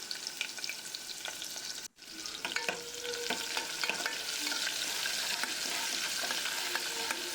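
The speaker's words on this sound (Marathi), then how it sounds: "कांद्याला सुद्धा छान फ्राय होऊ द्या." Chopped onion frying in oil with garlic in a pan for a spinach dal dish, a steady close sizzle with scattered stirring scrapes that briefly drops out, then resumes loudly and continuously.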